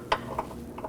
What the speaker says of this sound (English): Now we can go ahead and torque this one to 101 foot-pounds.